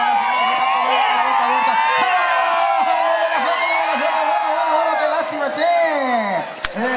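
A rodeo crowd cheers and claps loudly and steadily for a rider coming off a horse, with whoops and shouts layered throughout and a voice carrying over the din.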